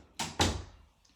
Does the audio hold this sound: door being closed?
yes